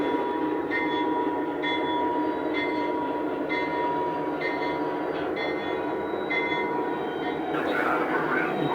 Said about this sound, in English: Oh, this engine really runs nice in the blue light.